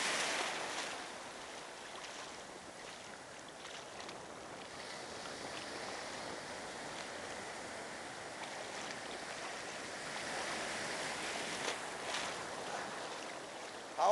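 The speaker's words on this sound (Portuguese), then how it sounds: "A onda quebra muito forte." Ocean waves breaking hard at a beach in Ubatuba, near the Ilha Anchieta channel, make a steady broad wash of surf with faint swells, and no one talks.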